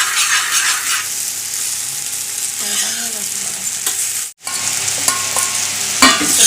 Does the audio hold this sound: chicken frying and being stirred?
yes